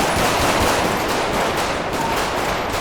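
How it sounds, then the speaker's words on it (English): Gunshots ring out during a police encounter, an officer-involved shooting on a city street. A loud, dense burst of rapid shots crackles almost without gaps for a few seconds, and no speech is heard. "shots fired"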